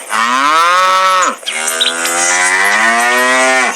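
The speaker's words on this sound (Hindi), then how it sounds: "फिर एक दिन उसकी भैंस भूख से तड़प रही होती है।" A buffalo moos loudly and close in two long, drawn-out bellows, the first lasting about a second and a half and the second nearly two seconds, with no talk over them. It is a hungry buffalo in a village setting.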